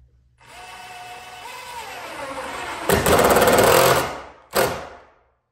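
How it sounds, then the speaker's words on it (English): Power driver sinking a screw through an MC cable strap into a wooden stud, a close whirring motor that rises, then a louder rattling burst of driving, stops, and one short final burst. "put this in the middle of the stud and then put your screw through there"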